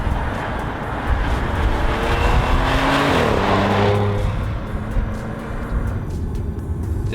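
A 2015 Audi S4 with Quattro four-wheel drive drives fast. A steady, loud engine roar holds throughout, with a rising and falling pitch sweep near the middle as it accelerates past and on.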